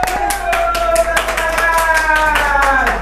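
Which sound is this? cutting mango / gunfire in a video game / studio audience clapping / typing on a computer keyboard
studio audience clapping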